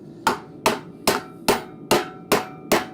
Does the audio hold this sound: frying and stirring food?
no